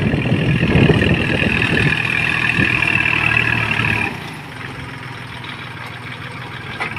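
A Kubota L4018 tractor works a rotary tiller through field soil, its diesel engine droning loud and steady with a whining drivetrain tone, then easing to a quieter idle partway through.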